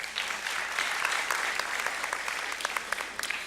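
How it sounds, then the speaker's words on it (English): A graduating class of 2020 applauds at a high school event, steady dense clapping from a crowd filling the space at moderate loudness with no talk over it. "please give Ms. Rocker a round of applause."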